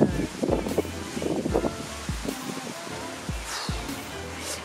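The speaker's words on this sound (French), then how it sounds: "oh, putain de vent de merde, là" Strong outdoor wind buffets the microphone in repeated low rumbling gusts, loud and close, with rustling under it.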